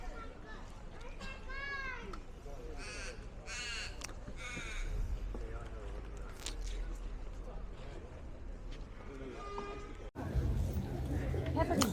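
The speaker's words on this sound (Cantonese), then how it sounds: "呢啲係嗰啲烏鴉聲嚟㗎，" Black crows cawing at the Camberwell Sunday Market in Australia, a few loud harsh caws rising over a busy crowd hum and a voice talking, with the market noise growing louder near the end.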